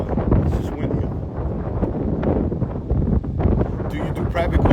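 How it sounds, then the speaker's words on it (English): Strong wind by a lake buffets a phone microphone held close, making continuous loud rumbling gusts that rise and fall while a person talks underneath. "It's like super windy out today."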